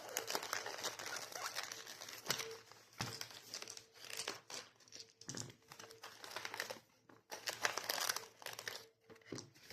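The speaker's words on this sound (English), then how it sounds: "I'm just gonna kind of cut right into them and rip them out" Plastic packaging of Stranger Things adventure dice sets being cut open and ripped apart, giving close, irregular bursts of crinkling and tearing with brief pauses, no talking.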